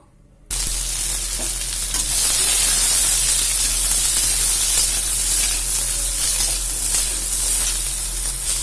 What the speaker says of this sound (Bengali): এইবার আমি এই কড়াইতে ফুলকপি আর আলুগুলো ভেজে নেব।